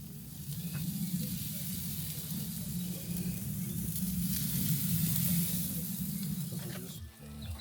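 Sausages sizzle on an outdoor barbecue grill, a steady crackling hiss at moderate level that continues throughout with no voices, broken briefly by a soft knock near the end.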